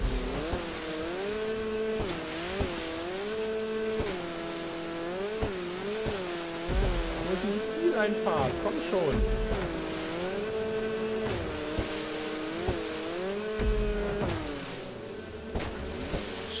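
Racing car engines in Grand Theft Auto V whine and rev continuously, shifting pitch up and down as gears change, with a person talking briefly over the engine noise.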